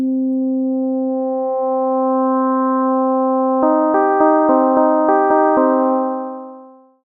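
A wavetable synthesizer holds a steady sine tone at its fundamental, then mid-way the timbre abruptly brightens in a series of stepped jumps as the amount is adjusted, before the note fades out.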